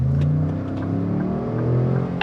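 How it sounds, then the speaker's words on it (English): A Lincoln Navigator Reserve SUV accelerates hard, its engine note rising and swelling steadily from inside the cabin, loud and continuous with no talk over it. "I'm just gonna see how quickly this car accelerates"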